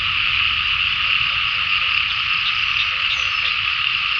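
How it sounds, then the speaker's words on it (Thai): Dense chorus of frogs croaking continuously in a rice field in the early morning, a loud steady rolling drone with faint low background rumble and no break. "เสียงกบหอง"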